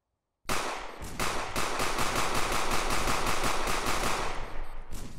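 Rapid automatic gunfire from a firearm in the stealth video game Sneak Thief: Burglary Simulator bursts out loud and close, a steady stream of shots lasting several seconds.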